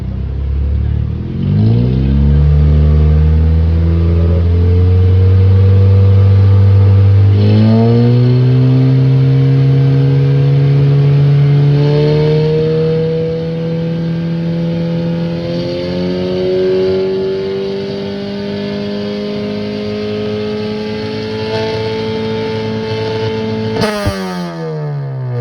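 A Honda Brio fitted with an Alpino full-system aftermarket exhaust revs hard. Its loud, close engine note climbs steadily in pitch, holds a long, strained high rev, then cuts off sharply near the end, with no voices.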